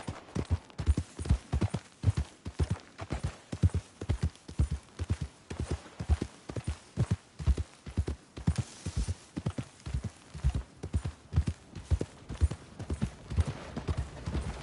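Horse hooves clip-clop in the video game Red Dead Redemption 2, around the town of Rhodes; steady, close, rhythmic hoofbeats continue at an even trot for the whole stretch.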